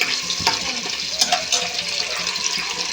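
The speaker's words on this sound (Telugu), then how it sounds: "ఇవైతే బాగా ఫ్రై చేసుకోండి" Whole spices for a meal maker biryani fry in a pan, giving a close, busy crackling sizzle with light scraping throughout.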